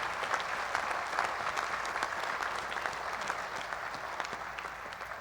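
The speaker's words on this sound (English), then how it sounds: "Again, a round of applause for yourselves today and your remarkable achievements." At a medical school graduation ceremony, a large audience claps continuously, producing an even, moderately distant wash of applause with no voices over it.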